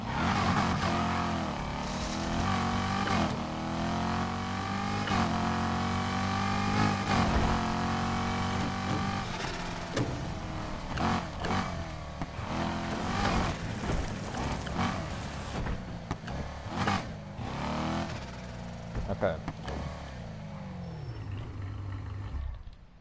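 Car engine revving hard and shifting pitch as the car drifts in Need for Speed Heat, a loud continuous growl with rising and falling sweeps and brief dips, alone without talk.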